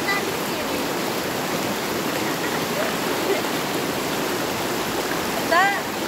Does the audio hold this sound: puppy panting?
no